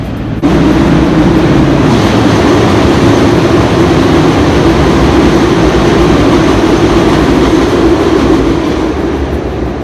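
A train rolls past in Chicago, a loud, steady rumble lasting the full stretch with no talk over it.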